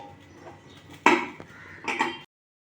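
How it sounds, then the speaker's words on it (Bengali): A lid set onto a cooking pan while making egg paturi, two quick close metallic clanks about a second apart against faint background noise, then silence. "এবার ঢাকাটা দিয়ে দিচ্ছি"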